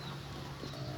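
A brief, faint chicken clucking over a low background hum.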